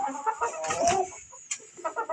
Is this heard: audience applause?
no